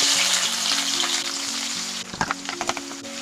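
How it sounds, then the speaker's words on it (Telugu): Thinly sliced onions hit hot oil in a pan, giving a loud, bright, continuous sizzle that eases after a couple of seconds into sputtering crackles and a few stirring knocks. "నూనె కొంచెం వేడయిన తర్వాత అందులో సన్నగా కట్ చేసి పెట్టుకున్న ఉల్లిపాయ ముక్కల్ని వేసుకోవాలి"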